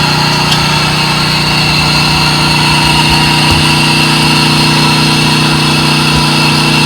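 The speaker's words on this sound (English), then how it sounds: "It's an electric motor for our trolling when we go fishing." An electric trolling motor for a fishing boat running steadily, a loud continuous whine with a constant tonal hum and no change in pitch throughout, alone without talk.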